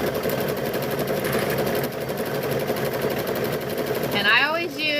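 A sewing machine runs steadily, stitching binding onto a quilt with a continuous close mechanical whirr and a faint voice talking underneath.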